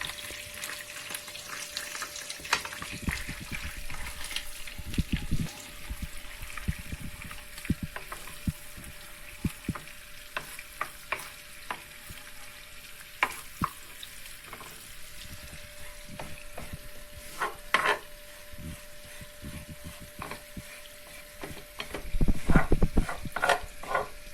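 Flour dry-roasting in a pan over lowered heat for Hatay-style cheese halva, a soft continuous sizzle broken by frequent scraping stirs of the spoon, close and steady with a few louder clattering strokes near the end.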